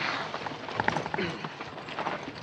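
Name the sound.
horses clip-clopping, western movie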